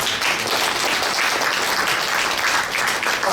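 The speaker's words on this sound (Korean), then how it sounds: "오늘 다시 한번 큰 박수 부탁드리겠습니다." Audience applauding at a New Year's greeting ceremony of a civic association, dense steady clapping from a crowd filling the room at even loudness throughout, with no voice over it.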